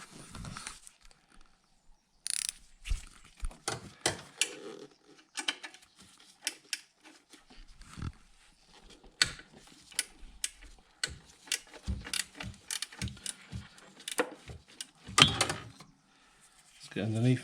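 A 12mm spanner working on the alternator bolts of a Suzuki Alto, giving scattered sharp metallic ticks and clicks at close range, some in quick bursts, with quiet gaps between them and no speech over it.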